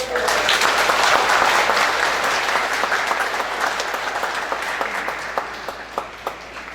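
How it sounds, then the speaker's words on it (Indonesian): Easter Mass congregation at a Catholic church claps for the priest, a loud, dense burst of applause that slowly thins out into scattered individual claps near the end. "Tepuk tangan dulu"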